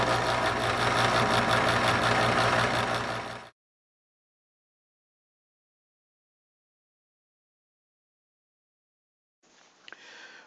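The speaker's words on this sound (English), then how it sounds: "How about using a grinding wheel?" A grinding wheel running in a workshop: a loud, steady mechanical whirr and roar lasting a few seconds, then cutting to silence before a brief, quieter stretch of handling noise and a tap.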